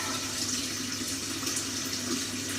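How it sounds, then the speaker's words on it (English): Tap water runs steadily into a kitchen sink while a small dish and plate are washed, a constant close splashing hiss for a few seconds. "is to wash my little dish out and wash my little plate up."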